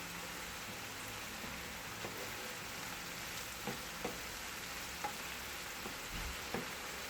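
Onions frying in butter, a soft continuous sizzle and crackle with a few scattered stirring taps and clicks, close but quiet, without talk.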